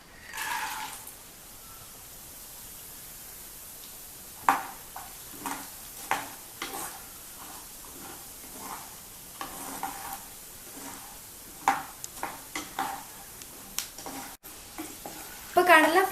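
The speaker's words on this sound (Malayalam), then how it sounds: "ഇനി നമുക്ക് കടല വറുക്കാം." Chickpeas fry in hot oil for a Kerala spicy mixture, giving a continuous bubbling sizzle broken by frequent sharp scrapes and clicks of stirring that come close and loud.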